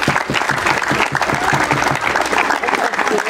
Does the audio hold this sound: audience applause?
yes